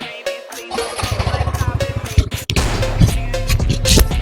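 A Hero Xoom scooter engine starts up and runs close by, a rapid even putter that begins after about a second, with a sharp clunk partway through before the running resumes.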